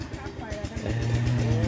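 A farm tractor engine runs in a rural Thai village setting, a steady low rumble with a rhythmic chug that grows louder and more sustained partway through, heard close under people talking.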